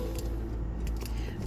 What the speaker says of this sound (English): keys with my dragon fob